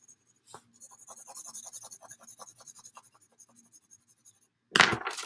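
A pencil pressed hard against paper while drawing a circle: a steady run of rhythmic scratchy strokes, close and fairly faint, stopping before a louder thump at the end.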